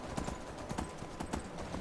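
Horse hooves clip-clopping in the video game Skyrim, a quick, even run of sharp clicks at a quiet, close level with no talk.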